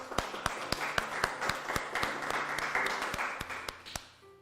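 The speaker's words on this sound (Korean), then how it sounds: "우리 모두 참 어머님께 감사의 박수를 보내주시기 바랍니다." A church congregation applauds at a university church worship service, scattered sharp claps over a steady mid-level wash of clapping that fades out toward the end.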